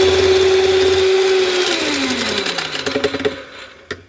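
An electric mixer beats cake batter for a Palia celebration cake, whirring steadily at high speed before winding down as its pitch drops. Soft clatters follow near the end.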